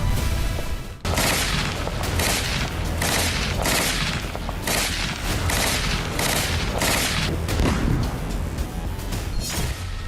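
Israeli bombardment and gunfire in the Gaza war: a dense, loud barrage of rapid shots and heavy blasts, starting abruptly after a second and continuing almost without pause throughout.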